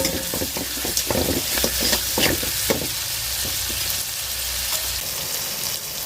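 Chopped onions and tomatoes sizzle and fry in a pan for a goat head curry gravy, a steady hiss broken by clinks of a spoon stirring, close and continuous with no talking.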